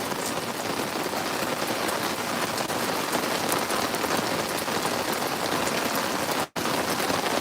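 Heavy rain pours steadily onto surfaces around a boat, a dense loud hiss of drops that continues without letup and has one brief dropout near the end.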